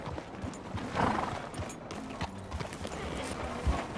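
Horse hooves clip-clop along in Red Dead Redemption 2, with a neigh rising partway through, all fairly quiet over a steady background wash of game ambience.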